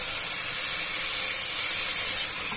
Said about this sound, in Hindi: चिकन डाल के इसको मैं दो तीन मिनट के लिए बस इसको हल्का सा फ्राई करना है